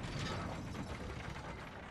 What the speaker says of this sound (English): Ugh, doors open so slow.